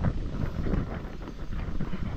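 Light wind buffeting the microphone outdoors at the Sveti Vlas seaside resort, a steady low rumble with soft gusty swells lasting throughout, no voices.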